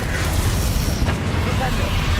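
Bombardo blasting spell going off in the Hogwarts Legacy video game, a dense continuous rumbling boom with a sharper burst midway, loud and sustained under a busy game soundscape.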